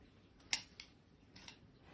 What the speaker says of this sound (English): so I'm just going to take the scissors